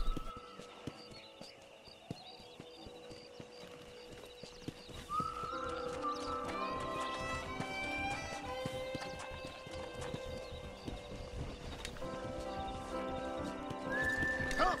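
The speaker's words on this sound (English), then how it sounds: "That's the horse." A horse whinnies loudly several times over the steady clip-clop of hooves in the video game Red Dead Redemption, with faint rustling and ambient noise in the background.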